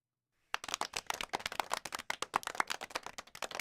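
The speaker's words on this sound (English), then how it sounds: "That clap is for Tommy Pham" A single person claps steadily at close range for about three seconds, sharp even hand claps on a quiet background with no talk.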